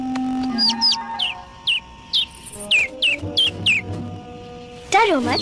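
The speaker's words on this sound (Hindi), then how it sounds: "ओह, एक नन्हा सा पंछी।" A small bird chirps in quick, bright, evenly spaced bursts close by, with a tonal sound at the start and a brief wavering call near the end.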